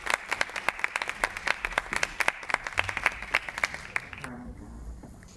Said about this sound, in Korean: 여러분 박수 부탁드립니다.